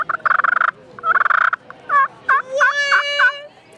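A walnut slate turkey call worked to make a purr: rapid rolling trills break into a series of clucky, chirping purr notes, close and fairly loud, with no voices.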